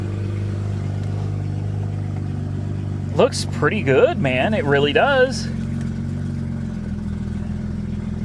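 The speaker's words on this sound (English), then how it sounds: "That sounds a little raspy, so I'm thinking somebody may have just cut the exhaust off and straight piped it." Mazda RX8 Shinka with an exhaust that sounds cut off and straight-piped, idling with a steady raspy drone close by while someone talks briefly over it.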